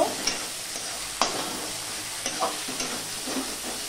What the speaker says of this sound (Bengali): দিয়ে আমি ভালো করে নেড়ে চেড়ে নেব